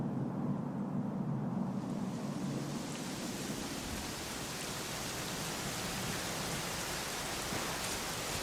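Rain pours in the video game Dragon Quest, a steady, dense hiss of falling water that swells in after a quieter opening and holds evenly, soft and continuous, with no voices.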